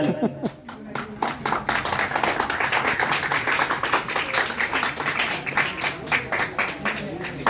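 An audience claps steadily at an International Men's Day gathering, a dense continuous patter of many hands, loud and close, with voices mixed in underneath.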